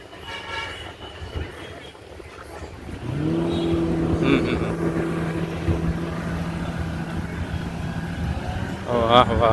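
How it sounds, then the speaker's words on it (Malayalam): A racing speedboat's engine at a beach in Kozhikode, Kerala, rises into a steady droning hum after a few seconds and holds loud and near. Beachgoers' voices and other noise mix around it. "സ്പീഡ് ബോട്ടാണത്. സ്പീഡാണെടാ."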